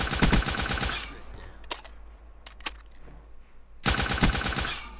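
Rapid automatic gunfire in a video game comes in two loud, close bursts at the start and end, with a few isolated shots in the quieter middle.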